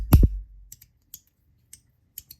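Magnetic fidget slider, an MW Rapt V2 SGI, snaps shut with a sharp double clack up close, followed by a string of lighter, sparse metallic clicks spaced about half a second apart.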